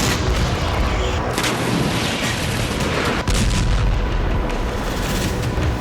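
Israeli bombardment over southern Beirut, with heavy explosions and booming blasts rumbling through a dense, continuous roar of distant fire and crackle.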